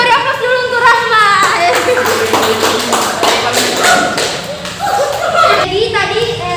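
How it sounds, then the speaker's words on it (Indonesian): Classmates in a classroom applaud a student with a steady patter of hand claps, heard under a teacher's voice and children's chatter. "Teman-teman yang beri aplaus dulu untuk Rahma."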